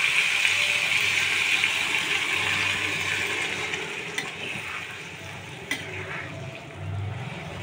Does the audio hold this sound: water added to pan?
yes